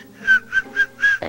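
A nostril breath whistles in four short, even tones, each a thin steady pitch rising and fading with the breath, close and clear, ending in a brief rough noise.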